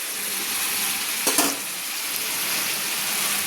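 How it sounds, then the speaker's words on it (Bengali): Two spoons of ginger garlic paste frying in a pan for coriander leaf chicken curry, a dense even hiss with one brief scrape of stirring, close and steady throughout with no voices. "2 চামচ আদা রসুন বাটা দিয়ে একটু নেড়ে নিলাম"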